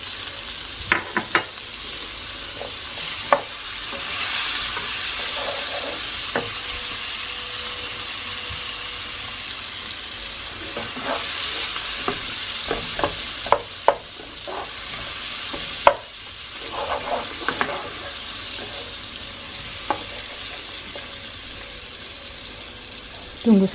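A whole onion sizzles steadily in heated oil and butter for Hachis parmentier, broadband frying hiss punctuated by sharp clicks and scrapes of stirring, with a faint voice now and then beneath.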